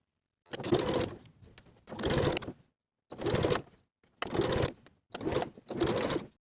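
A sewing machine top stitches through the edge of bias tape on a crossbody belt bag: six short, evenly spaced bursts of rapid mechanical stitching with silent gaps between them, close but fairly soft.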